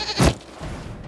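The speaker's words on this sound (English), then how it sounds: "we discovered this man attacking the building with a goat." A goat in the video game Dragon Age: Inquisition lets out a single loud, close bleat that quickly trails off into quiet background ambience.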